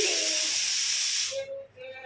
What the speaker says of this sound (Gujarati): કુકરની સીટી વાગી